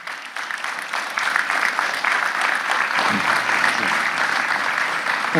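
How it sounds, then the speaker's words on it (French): Audience applause at a civic New Year's greetings ceremony, a crowd clapping steadily and fairly close, swelling slightly after the first second and holding level throughout. "Effectivement, on pourrait les applaudir."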